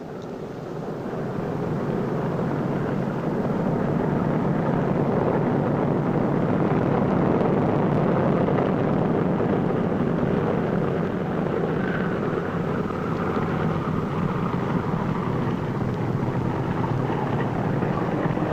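Heavy B-29 Superfortress bomber engines drone steadily and loudly while taxiing, a thick continuous roar that swells in after a moment and holds throughout without voices.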